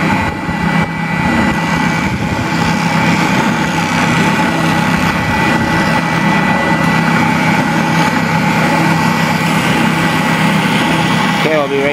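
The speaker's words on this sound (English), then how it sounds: "now we're going to cut this out in the spindle sander, sand it out" A spindle sander whirs loudly and continuously, cutting out a vintage guitar pickguard copied from a template, with a steady motor drone throughout and a voice speaking faintly underneath.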